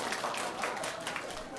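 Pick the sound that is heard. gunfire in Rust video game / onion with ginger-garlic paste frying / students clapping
students clapping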